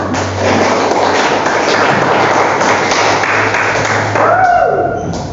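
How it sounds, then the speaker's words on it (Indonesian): Classroom of students clapping together in a sustained round of applause, steady and fairly loud throughout, with a brief tone near the end. "Tepuk tangan untuk kalian semua"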